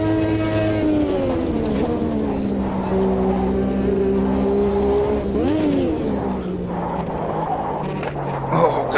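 A race car in the Automobilista 2 racing game revs hard toward the red line, its loud engine whine climbing and dipping steadily in pitch, with a brief lift and a rising pull near the end.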